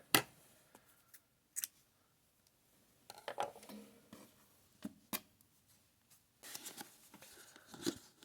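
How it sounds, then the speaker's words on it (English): Scissors snipping crochet yarn on a crochet net float, several sharp close clicks spaced irregularly, followed by a cluster of rustling cuts and handling noises, no talking. "I'm going to cut it here."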